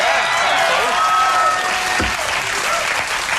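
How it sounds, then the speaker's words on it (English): A group of people applauds steadily for several seconds, a dense close wash of clapping with faint crowd murmur underneath and a brief thump partway through. "I just got a group of people to applaud."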